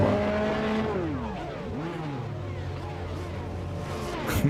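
A race car engine from the iRacing sim, driven in a Lemons league race at Oxford Plains or Irwindale, revs up and down through several gear changes with rising and falling pitch sweeps, loud and close, ending in a brief harsher burst.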